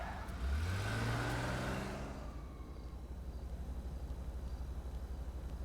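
A car engine in the GTA V video game revs up with a rising pitch, holds for about two seconds, then drops back to a low steady idle rumble.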